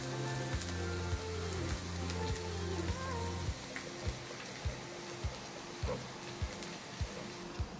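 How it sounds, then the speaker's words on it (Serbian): Onion fries in a pan with a soft, steady sizzle, faint and even, joined by regular light ticking clicks throughout. "Promešat ću luk i pržiti ga ovako 5 minuta."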